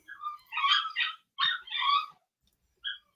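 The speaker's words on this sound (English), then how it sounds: "Can you hear my dog?" A dog barks and whimpers in a string of short, high yelping calls, several grouped bursts followed by a pause and one last faint yip, with no talking over it.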